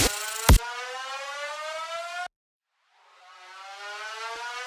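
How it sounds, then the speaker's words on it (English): A riser sound effect in a music production session: a dense tonal sweep with stacked harmonics climbing steadily after a sharp hit, cutting off abruptly, then a second swelling rise fading back in, loud and alone. "this is the best riser for this segment here"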